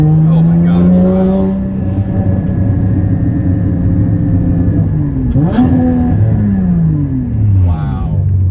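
A Porsche GT4 with headers, running on E85, accelerates hard with a loud engine note whose harmonics climb through the rev range. It drops briefly around a shift, then rises again. Excited voices react over the engine.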